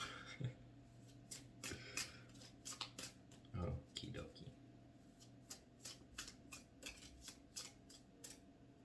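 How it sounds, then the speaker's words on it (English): A deck of tarot cards is shuffled by hand in repeated quick riffles and slaps, close and crisp, with brief quiet speech partway through. "I need to shuffle your deck a lot"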